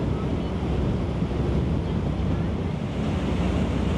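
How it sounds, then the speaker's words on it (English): Churned water behind a sailing boat on Sydney Harbour, a steady loud rush of surf-like wash mixed with wind buffeting the microphone, continuous throughout. "we can see all the water being chopped up"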